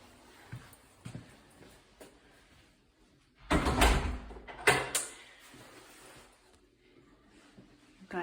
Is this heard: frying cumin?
no